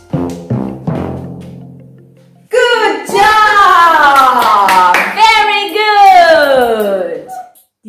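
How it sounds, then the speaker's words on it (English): A few sharp claps open, then voices sing together loudly for several seconds; part of a children's learning class on body parts. "can you clap your hands?"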